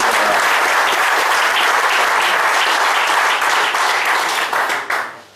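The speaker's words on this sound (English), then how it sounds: "we have another round of applause for our big people." A crowd at a pro-am golf prize giving gives a loud, close round of applause, dense clapping that holds steady and then tapers off quickly at the end.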